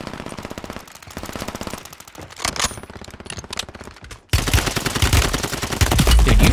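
Call of Duty gunfire on Rebirth Island, an MP7 among other weapons, with rapid automatic bursts rattling steadily, growing denser and louder partway through into sustained heavy fire, with no talk.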